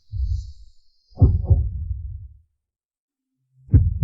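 Three slow, deep heartbeat thumps, each a muffled low pulse spaced about a second or more apart with silent gaps between, close and clear with no talk.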